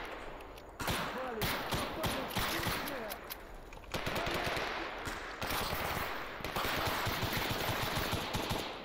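Enemy gunfire in the video game STALKER from an exosuit-clad soldier in a swamp: repeated automatic bursts, loud and close, in rapid volleys broken by short pauses across the stretch.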